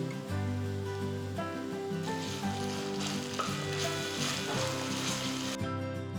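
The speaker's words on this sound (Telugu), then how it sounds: "ఇప్పుడు నేను ఒక టీ స్పూన్ అల్లం వెల్లుల్లి పేస్ట్ వేస్తున్నాను" A teaspoon of ginger garlic paste sizzles in hot oil with golden-fried onions for a bottle gourd dalcha, a loud continuous frying hiss with faint stirring beneath.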